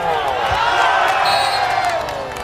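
A crowd at a village football match cheers and claps together in a loud, sustained wash of noise that tapers slightly toward the end.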